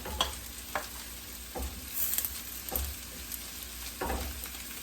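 Onion and pepper soften in oil in a pan for an eggplant salad, a low, even sizzle broken by several soft stirring scrapes at irregular intervals, with no talking.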